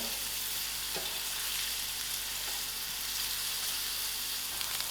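Onions fry in a pan with a steady, close sizzle and crackle, occasional stirring clicks, and no voices.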